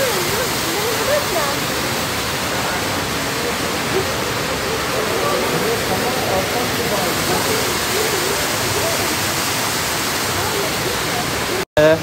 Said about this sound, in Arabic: طبعا في ممرات ماء غير الشلال اللي ينزل هني